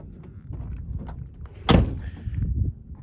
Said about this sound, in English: So you could feel, you could feel how bad that door is.